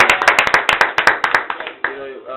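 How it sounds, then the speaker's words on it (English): An audience claps for jury member Grace Ofoka, a brisk burst of close, sharp handclaps that thins out after a second or so, with a voice speaking briefly near the end. "Please, a round of applause for her."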